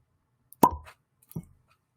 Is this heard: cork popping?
yes